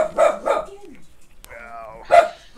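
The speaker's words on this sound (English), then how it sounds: "Sorry for the dogs." Dogs bark indoors nearby: a couple of quick sharp barks, a drawn-out whining yelp, then one more loud bark, with quiet gaps between.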